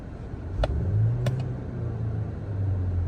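A 2021 Volvo S60 Momentum sedan engine revs once, a low rumbling swell that rises and then settles back to idle, close by, with a couple of brief sharp clicks near the start.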